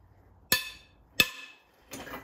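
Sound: BMW M52 head bolt snapping with a pranging noise

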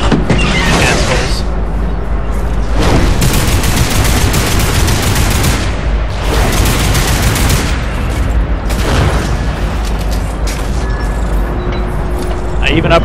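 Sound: enemy gunfire in video game Lost Planet 3

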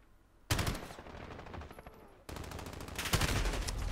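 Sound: gunfire in a first-person shooter video game

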